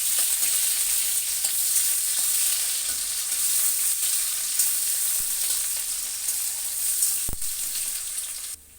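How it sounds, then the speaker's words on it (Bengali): Chopped onion sizzles in hot oil in a wok with black cumin seeds, a steady bright crackle that holds close and loud, with a faint knock near the end and no voices. "ওটাকে একটু ভেজে নেব।"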